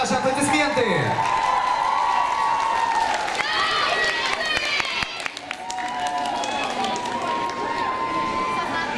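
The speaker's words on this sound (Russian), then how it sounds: "очаровательные наггетсы, ваши аплодисменты!" A large crowd applauds and cheers after a cover dance act at a dance battle event, with loud, continuous clapping, whoops and shouts sustained throughout, plus a swooping tone at the start.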